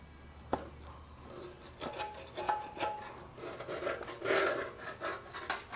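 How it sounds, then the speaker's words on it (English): A scraper rasping softened, chemically stripped paint off a car panel down to primer and steel, heard as uneven rubbing and scraping strokes with small clicks, fairly close and moderately quiet. "Probably would need another round once you scrape off your initial"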